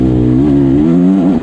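A 2024 Beta Xtrainer 300 motorcycle engine revs steadily up close, a loud buzzing drone with its pitch rising and falling slightly, then dropping off at the end.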